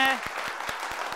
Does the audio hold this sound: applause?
yes